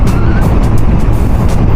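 A motorcycle overtakes on the Casiguran–Baler road in Aurora, heard as a loud, steady engine roar with heavy wind rush right at the microphone, no pauses, for under two seconds.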